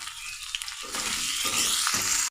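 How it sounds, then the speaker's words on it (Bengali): Salt and whole cumin seeds crackle and sizzle steadily in hot frying oil, close and loud, while a spoon stirs through them with soft scraping bursts, ending in a sharp brief click. "দিয়ে দিচ্ছি লবণ, দিচ্ছি গোটা জিরা। একটু নেড়ে চেড়ে নিই।"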